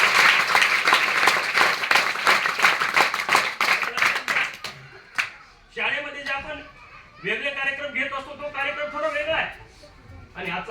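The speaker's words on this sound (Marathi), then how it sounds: "त्यासाठी एकदा जोरदार टाळ्या" School students at Sant Bhagwanbaba Vidyalaya burst into loud, fast applause that fills the first half and then tapers off, giving way to someone speaking over a few scattered claps.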